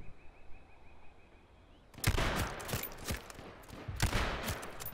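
Sniper rifle gunfire in the video game H1Z1: a quiet stretch then a burst of loud, sharp shots from about two seconds on, several cracks close together with echoing tails.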